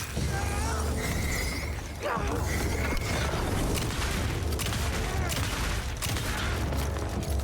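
Gunfire in the Alan Wake II video game, a rapid burst of shots with mechanical clatter and booms over a dense, noisy game soundscape, with a voice speaking briefly underneath.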